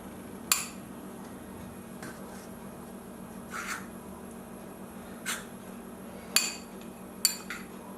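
Baking powder and refined flour are mixed in a bowl for Belgian waffle batter, with a few sharp metallic clinks of a utensil against the bowl at irregular intervals over a quiet background.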